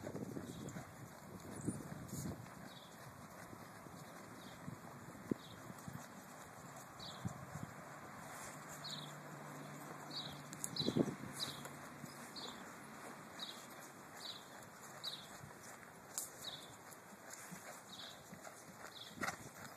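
Horse hooves clip-clop at a steady walk under a rider during a ride of a mare for sale, fairly quiet and regular against outdoor wind and a few faint bird calls.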